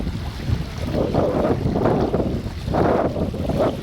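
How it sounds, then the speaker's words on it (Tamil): Gusty wind roars into the microphone over lapping waves at Thoppaiyar dam reservoir in Thoppur, rising and falling in strong surges, loud and close with no voices. "தண்ணி அலைய பாருங்க, காற்றுக்கு அப்படியே சும்மா விசு விசு விசுன்னு அடிச்சுட்டு வருது"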